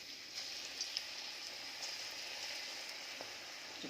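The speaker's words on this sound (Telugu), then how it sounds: "ఆయిల్ హీట్ ఎక్కింది, కొంచెం ఏది చూసినా వేడి అయింది. మనం పకోడీలు వేసుకుందాం." Potato and onion pakodi batter fries in hot oil with a continuous, soft, even hiss and a few faint pops.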